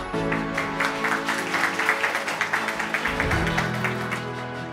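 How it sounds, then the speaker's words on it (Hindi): An audience claps steadily to welcome Captain Akhilesh Saksena to the stage at a Kargil Vijay Diwas event, with dense applause holding at a consistent level throughout. "जोरदार तालियों से स्वागत कीजिए कैप्टन अखिलेश सक्सेना का"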